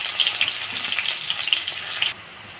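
Chopped onion hitting hot oil in a wok while cooking spinach with shrimp, a loud crackling sizzle with spitting pops that drops to a quieter, even frying hiss.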